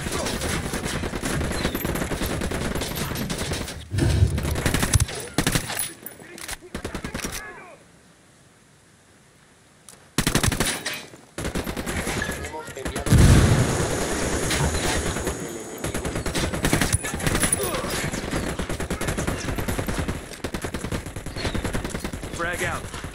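Video game firefight: rapid bursts of automatic gunfire and single shots crackle loudly, broken by a few seconds of near silence before the shooting resumes, with voices talking between and under the shots.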